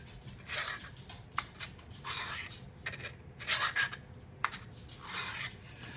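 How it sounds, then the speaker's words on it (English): A knife blade is drawn across a whetstone held at a fixed angle by angle guides, giving a series of rasping grinding strokes in an uneven rhythm, each a short scrape separated by quieter pauses, close and fairly soft. "Real key to be consistent with that angle, and that's what those angle guides are for."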